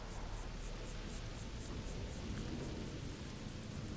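Steady hissing rainfall in a video game city, a continuous broadband wash at low level with no pauses or voices, like a constant downpour heard outdoors.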